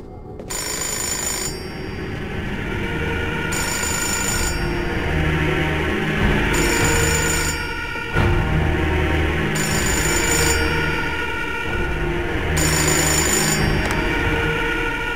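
A telephone in the video game Fahrenheit Remastered rings in repeated bursts over a steady background music bed, each ring a bright trilling tone with short gaps between.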